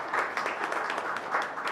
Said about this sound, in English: So please accept my applause.